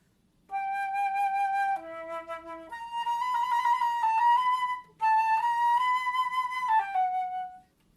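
A flute plays a short phrase of clear sustained notes that step between pitches, briefly pausing midway, solo with no talking.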